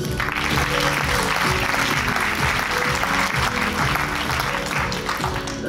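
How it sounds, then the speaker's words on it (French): An audience at a French conference on security and the social contract claps for a speaker joining by video link, a dense, even round of applause that runs for nearly six seconds without talk. "applaudissez-le aussi"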